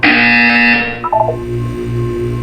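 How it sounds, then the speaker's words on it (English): Buzzer from the Portal 2 video game: a loud, harsh sustained electronic drone for about a second, followed by short chiming tones and a lower pulsing hum, with no talk. "You will hear a buzzer. When you hear the buzzer, look down at the floor."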